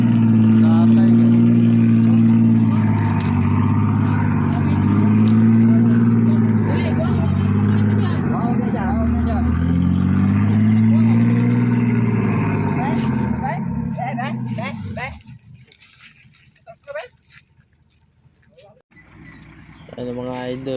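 A truck hauling harvested sugarcane is stuck in mud, its engine roaring loud and steady with rising and falling revs before dropping away near the end, with people's voices in the background.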